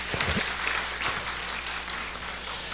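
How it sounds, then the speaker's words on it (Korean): Church congregation applauding at a Korean worship service, a steady wash of clapping with a few sharper claps near the start, moderately loud and filling the room. "우리 큰 박수 한번 해주시기를 바랍니다"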